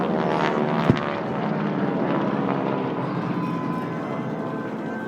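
Warplane engines drone steadily and loudly overhead during an airshow attack reenactment, a continuous roar with one sharp bang early on.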